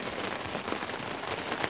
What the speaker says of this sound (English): The rain's come down a bit heavier now.